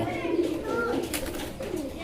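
Young, newly bought pigeons at a wholesale fancy-pigeon seller coo in soft, throaty phrases nearby, with someone talking over them.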